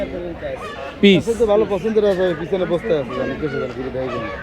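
Native ducks at a village poultry market quack and honk repeatedly close by while people talk over them.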